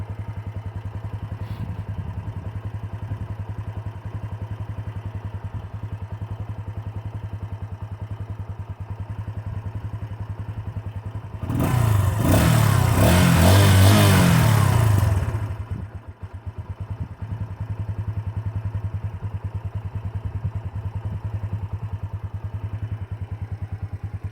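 A Bajaj Boxer X125 motorcycle fitted with a Chinese carburetor idles steadily with a low, even thrum, then a short burst of revving swells loudly for a few seconds before it settles back into an idle.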